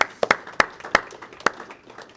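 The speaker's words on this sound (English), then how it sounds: "We like our studio audience to clap for sure as well" Scattered, sparse handclaps from a tired studio audience at a campus show, with a handful of separate sharp claps spaced irregularly and fairly close, with no steady applause building up.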